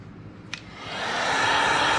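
Heat gun warming a creased graphic decal on a 2002 Kawasaki KDX 200 dirt bike, its airy blowing roar rising and growing louder after a small click.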